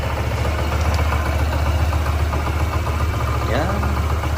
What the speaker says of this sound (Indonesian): Kita coba nyalain aja coba. Suara mesinnya kayak gini